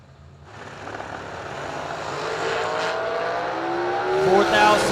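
A race engine screams louder and louder as a clean 436-cubic-inch dragster launches and accelerates hard down the drag strip, the pitch climbing toward the end.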